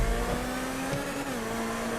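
A race car engine roars in GTA 5 stunt racing, a loud, continuous, droning whine that holds steady at high revs with no talk over it.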